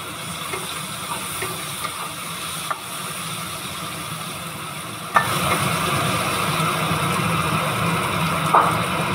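Cut potatoes sizzle in oil with black cumin in a pan, a steady close hiss with brief stirring clatters and a sharper crackle partway through.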